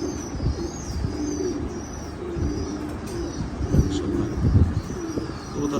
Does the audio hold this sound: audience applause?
no